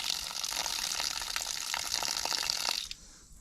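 Water is poured off eggplant seed pulp debris, a steady close splashing gush that runs for about three seconds and then cuts off.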